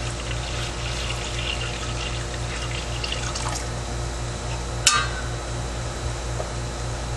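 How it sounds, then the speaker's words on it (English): Hot water trickles into a preheated crock pot for dyeing, a steady liquid pour over a low pulsing hum, with a single sharp clunk midway. "And you're going to apply just a little bit of hot water."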